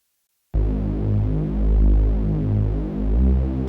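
Deep synth sub bass enters after a short silence and glides smoothly between low notes with portamento, swelling and throbbing in a slow, continuous line, alone and fairly loud.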